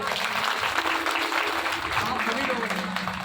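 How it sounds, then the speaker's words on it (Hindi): An audience at a Shrimad Bhagwat Katha gathering claps together in a steady, fairly distant wash of applause, with a faint hum running beneath it. "मैं चाहूंगा सुखवासी लाल जी के लिए एक बार ताली बजाते हैं आप।"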